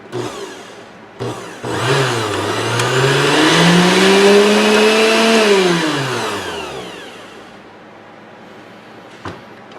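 An Oster 12-speed blender motor starts up, whines loudly with a rising then falling pitch for several seconds, and spins down to stop, running alone with no talk.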